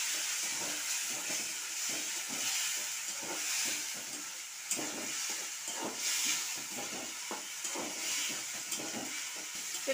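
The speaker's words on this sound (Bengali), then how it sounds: "এখন আমি এই বাটা মশলাটা ঢেলে দিচ্ছি।" Ground spice paste fries in a pan of hot oil, giving a steady, moderately loud sizzle and hiss with faint crackles throughout and no talking.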